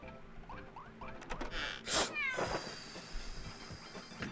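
A cartoon cat meows in the WarioWare Gold video game, several short rising meows in quick succession followed by a bright chime and a jingling effect, fairly quiet and with no talk.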